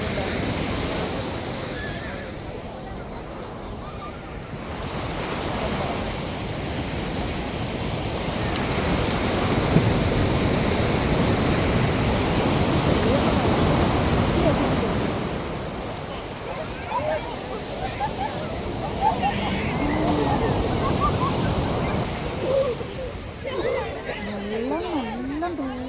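Strong sea waves roll onto the beach at Konark, Odisha, a broad roaring wash that swells and recedes over wind noise, with people talking and chattering nearby through the latter part.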